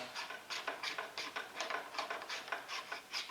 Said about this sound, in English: Just unscrewing it now.